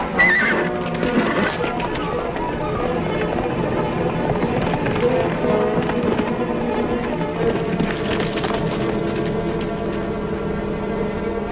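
A horse whinnies amid hooves clip-clopping as a rider heads out to a ranch in a 1950s TV Western, the sounds steady and fairly loud over a continuous backing layer.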